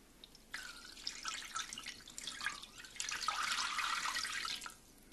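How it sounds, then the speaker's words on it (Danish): A litre of cold water poured into a roasting pan beneath a duck on a rack, a steady splashing, trickling pour lasting several seconds before stopping, close and fairly quiet. "hælder en liter koldt vand ved."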